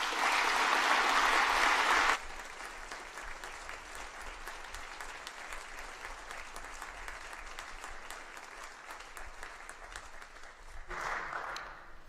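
Audience at a church synod meeting bursts into loud, dense applause that quickly drops to steady, sustained clapping from a large crowd, swelling briefly again near the end.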